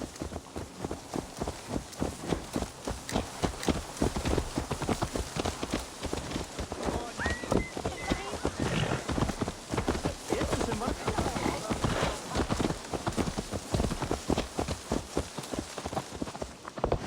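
Horse hooves clip-clop steadily in the Assassin's Creed Valhalla video game, a dense, continuous rhythm of hoofbeats over rain-like background texture, moderately loud throughout.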